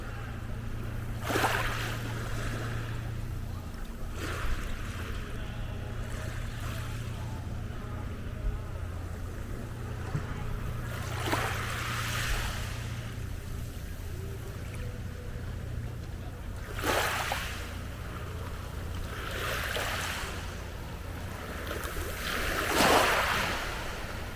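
Sea waves breaking on the beach at Banyuls, several separate surges washing in and hissing out over a steady low rumble, moderately close.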